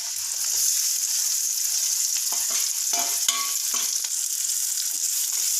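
Big onions fry in oil with well-cooked garlic, making a bright, constant sizzle close by, with a few clinks and scrapes of stirring toward the middle.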